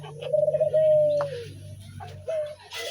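A dove coos while sitting on its eggs, giving a few soft, nearby coos over a low background hum with faint rustling.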